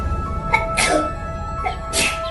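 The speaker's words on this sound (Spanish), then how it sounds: "el muchacho estornudó 7 veces y abrió los ojos" A boy sneezes in a radio drama sound effect, a quick series of sharp sneezes with two loud bursts standing out among smaller ones.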